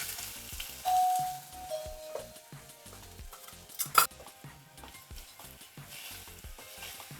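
Onion goes into hot oil already holding mustard seeds, giving a steady close sizzle with scraping stirs and a metallic clink of a utensil against the pan, without any voices.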